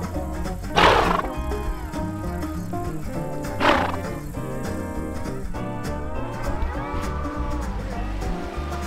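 A horse close by, making snorting and blowing bursts twice in the first few seconds over a steady low rumble, with faint tonal animal sounds after.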